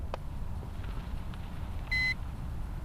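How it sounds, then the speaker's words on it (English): A Hubsan X4 Desire quadcopter gives one short, clear electronic beep as its camera starts recording, heard over a low steady outdoor rumble with no talk. "so it beeped"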